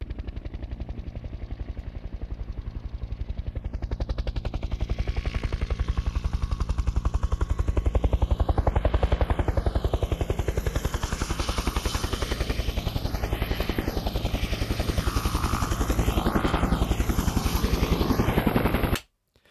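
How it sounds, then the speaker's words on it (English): A loud, steady helicopter with rapid rotor chopping that sweeps and shifts position, holding a continuous roar before cutting off abruptly at the end. "Here we've got the sound of a helicopter"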